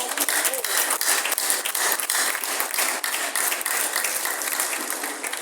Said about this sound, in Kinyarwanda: ndasaba ko mwabampera amashyi